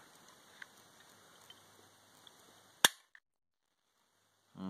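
A Glock 43 trigger breaks with one sharp, loud click while being measured with a pull gauge, followed by a fainter click and quiet handling noise.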